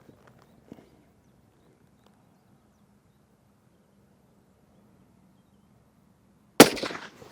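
A single sharp, loud rifle shot from a Browning X-Bolt 2 Nordic with a polymer stock cracks out near the end, after several seconds of quiet outdoor stillness with a few faint knocks.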